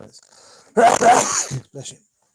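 A single sharp sneeze bursts out, followed by a brief exhale.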